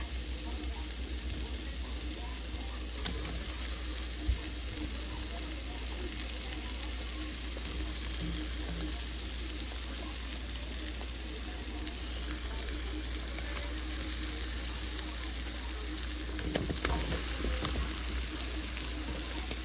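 Pre-sliced mushrooms frying in a pan, giving a steady soft sizzle and crackle that runs continuously at moderate volume, with occasional faint clinks and no talk.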